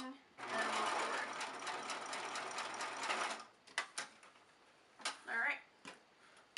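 A sewing machine stitches fabric for a bullet journal cover, running steadily for about three seconds with back stitching, then stopping into a few short mechanical clicks and brief handling noises.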